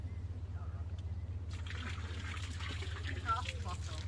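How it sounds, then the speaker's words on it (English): Liquid from a bottle poured out as a libation at a boat renaming ceremony, a soft trickling splash that begins partway through over a steady low hum, with voices speaking faintly nearby. "can I ask you to pour at least half the bottle from east to west?"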